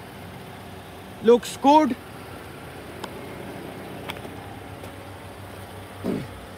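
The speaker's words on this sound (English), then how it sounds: "An engine is running too." A locally built Australian Toyota Camry Atara SX with 43,043 km idles nearby, a low, steady engine hum running beneath brief speech and a few light clicks.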